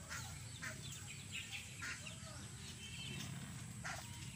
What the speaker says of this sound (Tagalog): Yan yung mga bagong hatch na pato.